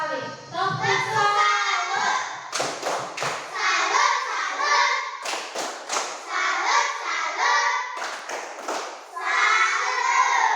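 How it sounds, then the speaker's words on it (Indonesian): Schoolchildren in an Indonesian classroom perform a 'tepuk salut' clapping routine: bursts of sharp, fairly close group claps and thumps in a rhythmic pattern, mixed with children's chanting voices throughout. "Kalau begitu tepuk salut dulu satu kali."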